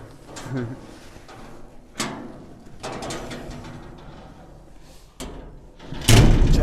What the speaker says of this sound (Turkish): Ve kapıyı da kapatacağız.